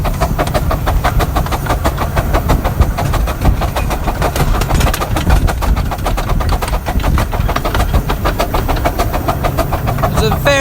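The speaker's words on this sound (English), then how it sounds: "Engine's working quite hard now to accelerate the train." Steam locomotive Northern Chief works hard to accelerate its train, a loud, dense, continuous roar of exhaust chuffs and running gear close on the footplate, steady throughout.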